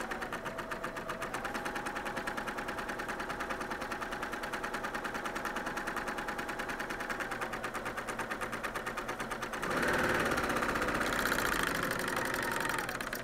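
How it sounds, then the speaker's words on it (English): A coverstitch serger sewing machine stitching a stand-up fabric bag, running with a steady fast mechanical whir and hum that grows louder and quicker near the end, close up, with no speech. "I'm gonna pull my foot pedal back a little bit so I can sew a little bit"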